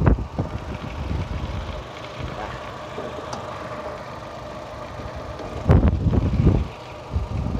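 A Chevrolet Aveo car engine idles up close with the hood open, a steady mid-pitched hum with a few louder bursts and knocks, while someone talks over it.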